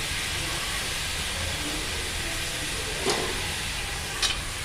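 Washed curry leaves dry roast in a pan with a steady, even hiss throughout, broken only by two faint clicks near the end, and nobody speaks.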